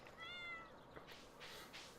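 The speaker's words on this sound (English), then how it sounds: "Kitty go meow." A cat gives one faint, drawn-out meow near the microphone, followed by a couple of soft breathy rustles in a quiet room.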